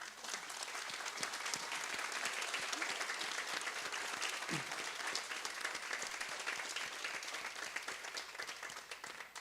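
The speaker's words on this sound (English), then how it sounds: "So how about a little applause for the families?" A graduation audience claps for the families, a dense, even wash of applause that holds steady for several seconds, with a few individual claps standing out.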